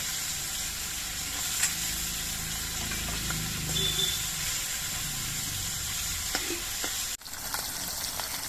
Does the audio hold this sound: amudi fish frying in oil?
yes